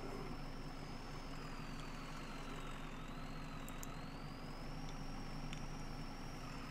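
A Ford F-350 pickup engine drones in the off-road game Spintires, a low steady rumble with a faint whining tone on top, straining and bogging in fifth gear, with no voices.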